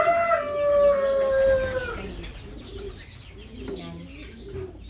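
A kept pigeon or similar pet flying bird in a backyard loft gives a drawn-out, falling tonal call close by for about two seconds, then fades into quieter background sounds.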